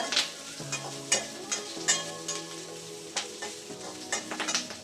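Onions sautéing in a pan while a drumstick kurma is prepared: a soft, steady sizzle under repeated light stirring scrapes, with no talk.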